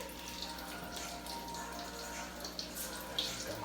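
Tap water runs steadily at moderate level in a home kitchen while dinner is made, a continuous splashing hiss with a few small clinks near the end.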